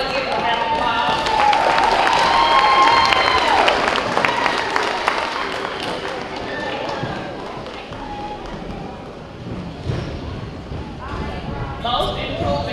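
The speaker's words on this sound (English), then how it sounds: "Good job, you all, to give a round of applause." Students and families at a school's third and fourth grade awards ceremony clapping for all-A honor roll students, a scattered round of applause that fades over several seconds, with talk and movement in the room mixed in.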